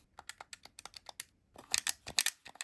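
Clicky face buttons on a Nyxi Hyperion Pro Switch controller pressed one after another, a quick series of crisp close clicks with a denser burst of louder presses near the end, no talking.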